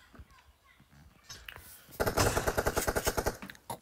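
Shotgun blasts from a Winchester in a video game: a quiet stretch with faint clicks, then a fast, loud string of repeated shots rattling out in close succession.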